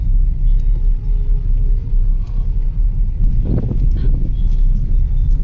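Vehicle traffic rolls through a busy Bangalore market street, a loud continuous low engine rumble with a car passing close by in the middle.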